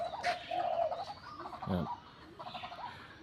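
A dove coos in soft low hooting phrases, close by, amid faint background rustle and a few other bird sounds.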